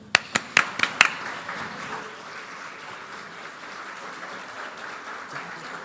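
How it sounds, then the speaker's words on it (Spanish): A short burst of clapping from a conference audience welcoming a speaker, with a few sharp claps at the start, fading into a steady murmur of a crowd. "recibimos con un fuerte aplauso"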